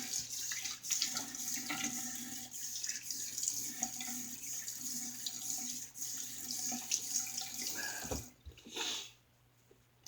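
A tap runs water in a sink while a shaving item is rinsed under it, a soft continuous splash that stops near the end, leaving faint drips.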